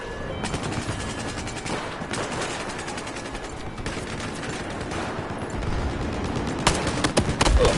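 Dense, continuous gunfire from the video game Battlefield 4, with rapid overlapping shots and bursts at a loud, steady level, growing more intense toward the end.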